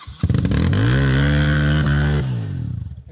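Motorcycle engine on a steep rocky dirt trail climb, revving up loudly and holding a strained, steady roar for about two seconds before easing off, close and without talk.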